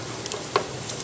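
Tomato sauce bubbles and sizzles in a pan as the tomatoes are crushed, a steady close frying hiss with a brief soft pop, no talking.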